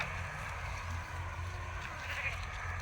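Sheep bleat faintly on a small farm where goats and sheep are raised, with soft, wavering calls over a low rumbling background.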